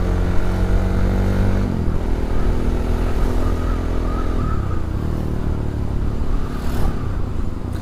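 A Bajaj Pulsar NS200 motorcycle rides along with a steady, loud engine drone, its pitch shifting as the rider changes speed, heard close up with wind rush and no talking.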